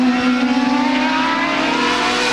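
CART race cars roar around the 1994 Portland circuit as a loud, continuous engine drone with a steady high pitch, with no commentary over it.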